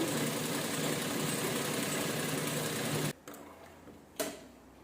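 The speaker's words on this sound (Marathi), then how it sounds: "आता हे बरोबर हो का दाब शिलाई देऊन घेऊया." A sewing machine stitches through canvas, a close, steady mechanical whir running for about three seconds, then stopping abruptly, followed by a couple of faint clicks and a short thump.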